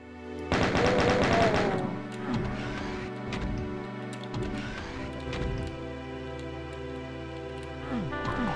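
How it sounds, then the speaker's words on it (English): Rapid bursts of gunfire from a Doom game level crackle amid clanking in-game mechanical sounds, with dense shots early on and scattered fire continuing at moderate loudness. "Who in the shit is shooting me?"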